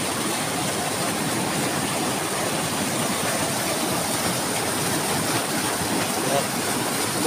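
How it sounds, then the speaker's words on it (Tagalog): Strong river current rushing in a continuous loud broadband roar of turbulent water, steady and close throughout with no pauses. "Napakalakas ng agos."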